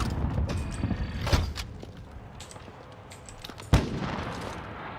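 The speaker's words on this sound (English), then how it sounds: "Airstrike. Use the power. Phoenix 3, strike inbound." Video game airstrike explosions: a couple of sharp booming blasts, one early and a stronger one near the end, over a rumbling, noisy battlefield background.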